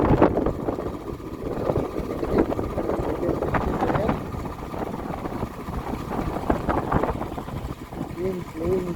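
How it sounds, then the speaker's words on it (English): Wind blowing white sand across the Nubra Valley during a sandstorm, a steady rough rushing and buffeting roar against the microphone, with a vehicle engine rumbling underneath and a voice speaking over it. "Wind blowing this white sand."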